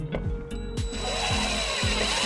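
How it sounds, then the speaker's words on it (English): A power drill drives a 1/4-inch tap screw into a flat surface on a 2011 Dodge Journey during wiring harness installation, giving a close whirring grind with short repeated bursts as it bites. "we're going to take our 1/4-inch tap screw, and we're going to just drill it on this flat surface"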